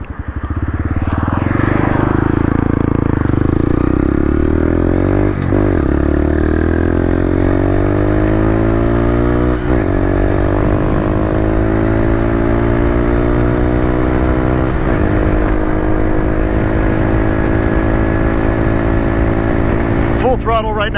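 A Honda Grom motorcycle ridden off road on street tires drones loud and close at full throttle, its engine pitch climbing and dipping in several long surges with brief dips between them.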